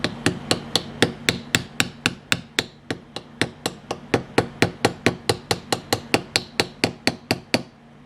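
Steady metal hammering, about thirty sharp ringing blows at an even rhythm, as an edge is hammered down into an Astro A20 headset case during repair, close and loud over a low background hum.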